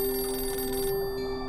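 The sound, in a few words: telephone ringing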